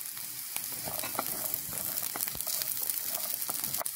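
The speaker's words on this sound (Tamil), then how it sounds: "தேங்காவை நல்லா வதக்கி எடுக்கணும்." Grated coconut frying in a pan toward golden, giving a dense continuous sizzle with occasional light stirring scrapes, close by and steady throughout.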